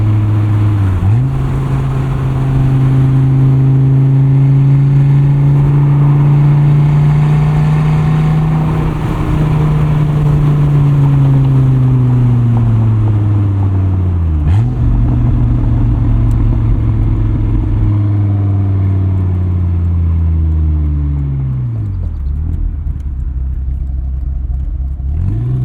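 A 2004 Dodge Viper SRT-10 V10 engine revving loudly while driving, with repeated rising and falling pitch sweeps through gear changes, close and continuous.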